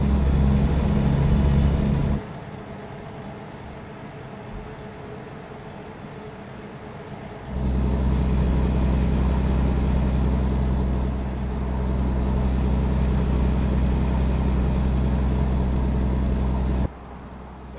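A truck engine in Euro Truck Simulator 2 drones with a low, steady rumble, dropping quieter for several seconds before swelling back up, then falling away at the end.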